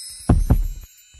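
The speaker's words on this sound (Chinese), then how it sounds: "我听见心跳在扑通" A heartbeat sound effect gives a loud, close double thump, two beats in quick succession, over a steady high-pitched tone, followed by a faint softer thud.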